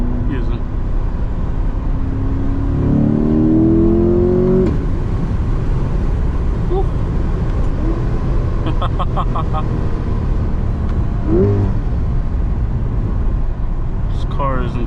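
A 500 hp C8 Corvette in track mode pulls hard, engine note rising in repeated climbing sweeps through the gears with low burbles between, loud and close from inside the car.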